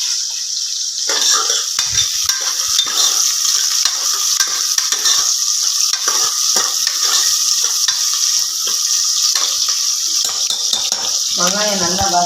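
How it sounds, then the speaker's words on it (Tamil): Mutton liver frying in a pan gives a steady, loud sizzle with broadband crackle, broken by occasional stirring scrapes and a brief faint voice near the end. "நாங்கள் லிவர் தான் இப்போ ஃப்ரை பண்ண போகிறோங்க."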